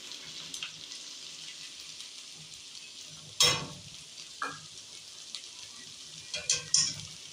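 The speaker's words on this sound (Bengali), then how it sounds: "এবার আমি এর মধ্যে এই যে ফেটিয়ে রাখা ডিম দুটো দিয়ে দেবো" Okra and beaten eggs frying in a pan, a steady soft sizzle with a few louder scrapes and clacks of stirring scattered through.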